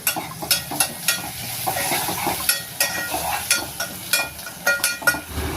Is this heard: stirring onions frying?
yes